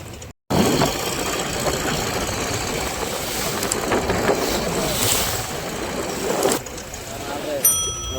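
A small motor boat's engine runs continuously up close on the water during a village fishing trip, a steady rough drone with a brief cutout near the start and people talking over it.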